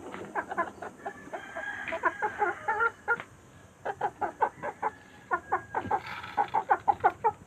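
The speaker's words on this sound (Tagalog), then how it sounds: "yung mga manok natin" Several chickens cluck close by in quick, rhythmic bursts, with brief pauses between runs of clucking.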